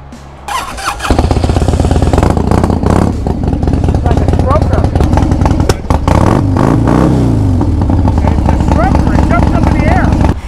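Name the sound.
1999 Harley-Davidson Sportster motorcycle engine revving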